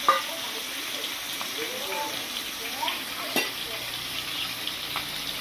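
Ginger, chili powder, turmeric and cumin fry in a pan with a steady close sizzle, with a few sharp clinks and scrapes of stirring throughout.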